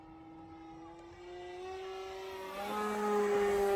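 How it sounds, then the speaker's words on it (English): A 3D printed RC airplane's 35mm brushless motor on a 4S battery runs at full throttle, a steady whining drone that rises in pitch and loudness. "There's full throttle on 4S. That 35mm motor."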